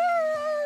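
A voice imitates a wolf howl during The Last of Us Part 2 video game: a single sustained, wavering tonal howl that glides slightly downward, close and clear, lasting under a second.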